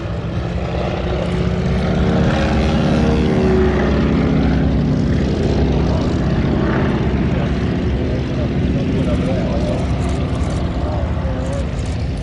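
A Stearman biplane passes slowly left to right at an airshow, its propeller engine a loud, steady drone throughout, with a wing walker on top of the wing.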